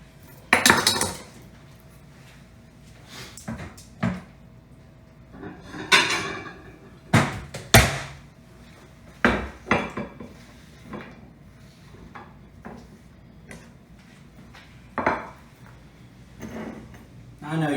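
Ingredients being cut for grilled trout, heard as irregular knife thuds and clacks on a board among clinking utensils and kitchen knocks, close and sharp with quiet gaps between them and no talk.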